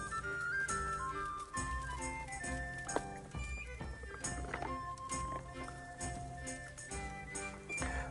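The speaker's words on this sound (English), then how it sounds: "I'll just quickly get on my horse and be on my way." Horse ride in the medieval game Kingdom Come: Deliverance, with rhythmic hoofbeats clopping steadily beneath a layer of in-game music and ambience that fills the whole stretch.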